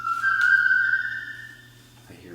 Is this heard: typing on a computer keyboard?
no